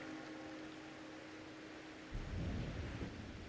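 Rain and a deep, rolling thunder rumble in the Wuthering Waves video game: a steady rain hiss and faint hum give way to a louder, close crack and rumble of thunder partway through.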